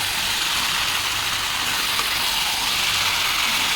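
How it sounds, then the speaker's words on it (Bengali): Onions and tomatoes sizzle and fry in a pan, a dense, steady hiss of crackling oil that holds at an even, close, fairly loud level throughout, with no talking. "এখন দেখো পেঁয়াজ আর টমেটোগুলো দিয়ে ভালোভাবে কষিয়ে নেব"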